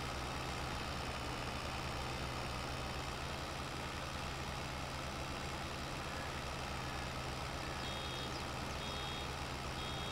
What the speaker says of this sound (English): I like this little tractor though.